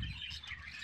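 Young pet birds, one a four-month-old male chick, give a quick burst of thin high chirps and squawks, close and fairly faint, heard alone without talk.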